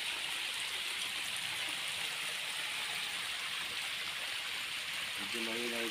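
Water from a stream flowing at a rocky bathing spot, a steady broadband rush that stays constant throughout, with a brief tonal sound near the end.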